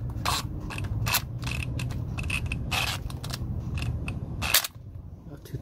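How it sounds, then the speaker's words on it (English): On a 2008 Ford Ranger, an impact wrench drives a transmission pan bolt in short, sharp rattling bursts with brief pauses between them. The sound is close and fairly quiet, and nobody talks. "Now we use our impact wrench."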